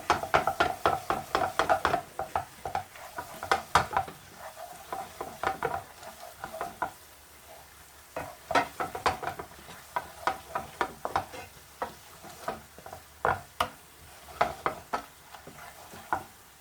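Spices being stirred in a hot pan for chicken pathia: a steady low sizzle with irregular knocks and scrapes of a spoon against the pan, close and fairly quiet, with no talking.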